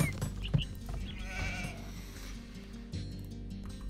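A sheep bleats in the strategy game Age of Empires II, with a short bleat early on, followed by soft game ambience and interface sounds.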